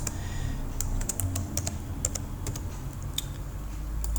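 Someone types on a computer keyboard in short irregular bursts of clicky keystrokes, close and clear over a steady low hum, with no talking.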